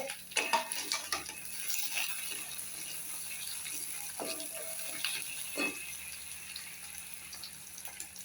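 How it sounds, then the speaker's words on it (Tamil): Tomatoes stirred and sautéed in a pan for coriander chutney, giving scattered clinks and scraping taps over a steady sizzling hiss, fairly close. "தக்காளியை போட்டு வதக்கிடுவோம்"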